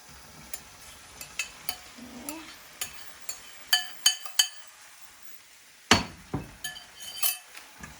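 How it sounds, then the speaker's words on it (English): A spoon clinks and scrapes against a pan while rajma kidney beans are stirred into a thick curry paste, giving irregular close taps with a faint sizzle and brief quiet gaps between strokes. "I need to stir this and mix it really well."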